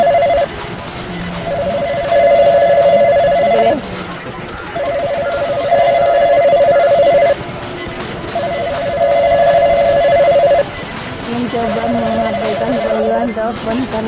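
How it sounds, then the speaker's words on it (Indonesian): A home landline telephone rings repeatedly in regular bursts with short pauses between them, sounding over a constant background murmur and rumble. "suara dering telepon rumah yang terdengar berkali-kali"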